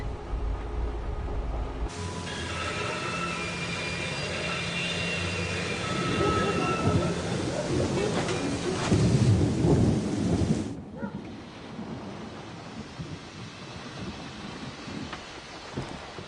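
A thunderstorm with rain in Syberia: The World Before: a deep rolling thunder rumble swells to a loud peak and then fades, while steady rain hisses throughout and a voice speaks partway through.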